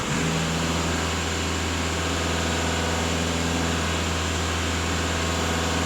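A Volkswagen Passat B8 engine runs steadily at raised revs, giving a continuous, even mechanical drone with a deep low hum and no voices over it.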